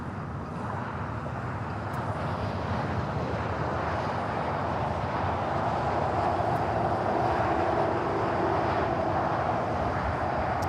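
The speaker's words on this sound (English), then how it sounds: "Air Canada 792, runway 25 right, clear for takeoff, RNAV Docker" An Air Canada airliner takes off from runway 25 right at LAX, giving a sustained, fairly loud jet roar that swells slightly toward the end, with no talking.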